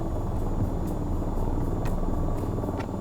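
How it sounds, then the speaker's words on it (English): Helicopters in the VR flight game VTOL VR make a steady, low, rumbling rotor drone that stays constant and fairly loud throughout, with faint periodic ticks and no talk. "Hey, those aren't our helicopters."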